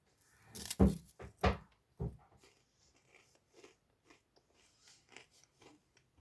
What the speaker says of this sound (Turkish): Bir ısırık alayım.